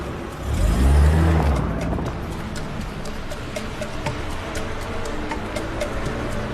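An expensive car drives close by, a low engine swell rising and easing in the first seconds, then fading into a steady hum with faint ticking.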